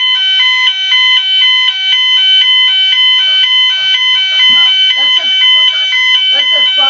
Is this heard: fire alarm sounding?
yes